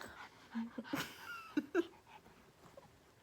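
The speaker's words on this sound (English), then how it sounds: "this dog, you guys." A dog whimpers softly indoors in a few short, high, nasal whines and breathy sniffs, faint and close in an otherwise quiet room.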